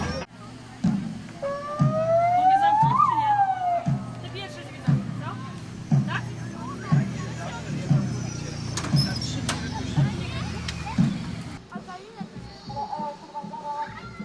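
A wailing police car siren rises and falls amid a rhythmic mechanical pulsing, with children's voices and crowd chatter around it at a charity picnic in Prudnik, Poland.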